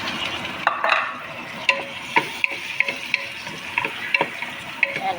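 Tomatoes fry with cooked garlic in a pan, giving a soft continuous sizzle with sharp, irregular clacks and scrapes as the mixture is stirred close by.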